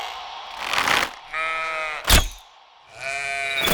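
Sheep in a co-op video game bleat in several drawn-out, wavering cries, loud and close, separated by a sharp crack-like hit and short silences.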